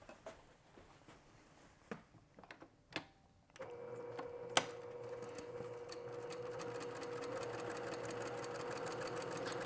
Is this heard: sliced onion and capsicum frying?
no